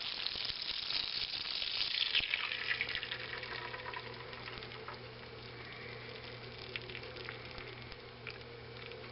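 Beaten eggs hit foaming butter in a frying pan for scrambled eggs, a bright rushing sizzle at first that settles into a softer, steady bubbling hiss, close up with no voices.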